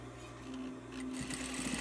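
Sewing machine stitching a seam down a pinch front, running as a steady mechanical hum close by with no talk.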